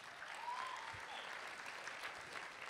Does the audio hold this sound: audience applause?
yes